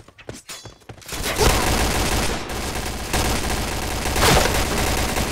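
Rapid bursts of gunfire in the video game Point Blank, loud and sustained volleys from close range filling the clip, with no talk over them.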